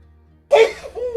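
A single sharp sneeze bursts out close by after a brief quiet, followed by a short breathy exhale.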